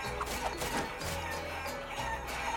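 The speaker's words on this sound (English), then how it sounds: "So he wants me to get all these chickens into this pen over to the right side." Chickens cluck and squawk repeatedly in the Guacamelee video game on PS3, a busy flock of overlapping fowl calls over steady game music, with no talking.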